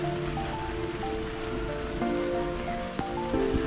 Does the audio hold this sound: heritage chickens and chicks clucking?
no